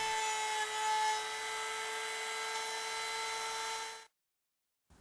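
Handheld router cutting a hinge mortise in wood with a jig, a loud continuous high-pitched whine with steady tonal hum, running for about four seconds before cutting off abruptly.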